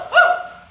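A person imitates a dog's bark with a single short, bright yelp that fades quickly, heard alone with no other talk.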